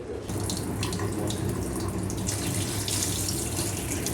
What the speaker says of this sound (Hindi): तो ये देखें, पानी मैंने डाल दिया है